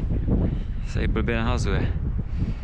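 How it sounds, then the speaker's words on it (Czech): Wind gusts buffet the microphone at an outdoor fishing pond, a steady low rumble throughout with a person speaking over it. "Ježišmarja, teď fouká."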